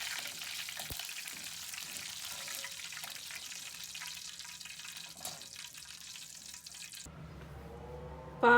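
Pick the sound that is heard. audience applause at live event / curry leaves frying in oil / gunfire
curry leaves frying in oil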